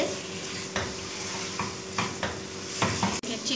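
Chicken frying with ginger garlic paste and onion for a karahi, a loud steady sizzle broken by several scraping stirs of a spoon against the pan.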